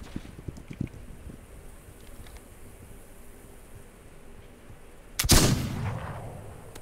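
A single loud gunshot in the video game This Land Is My Land, a sharp crack with a ringing tail that breaks a quiet, windy outdoor ambience.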